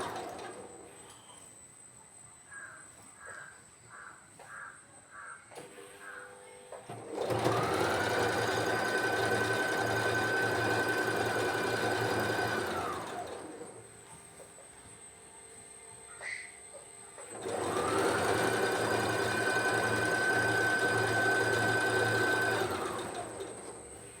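A sewing machine stitching a nightie runs in two long steady bursts of loud mechanical whirring, each lasting several seconds, with a quiet pause and a few soft clicks between them and pigeons cooing faintly beforehand.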